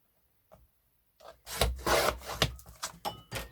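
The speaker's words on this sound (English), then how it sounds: "And then let's cut this" Craft blade drawn through card while trimming a border for white-on-white cardmaking, a few close rasping strokes after a faint tap.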